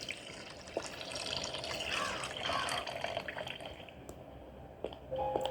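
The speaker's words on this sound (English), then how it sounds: "Take this cork out of this water barrel." Water runs from an uncorked barrel in the horror escape game Метель Horror Escape, a faint, continuous trickle and splash with small knocks of movement scattered through it.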